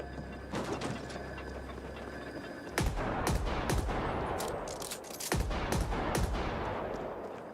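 Shotgun blasts in the video game The Ascent, several loud sharp reports spaced irregularly with mechanical clatter between them, alongside busy game sounds and no talking.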